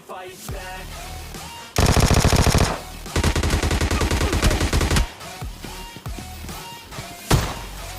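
A Vector submachine gun fires in a shooter video game, with loud, close rapid bursts in two long strings, separated by short pauses and scattered thuds of movement.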